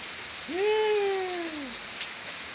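Heavy rain falls as a steady hiss across the whole stretch while a clear, sweeping tonal call rises, holds and slowly falls near the middle, standing out over the rain.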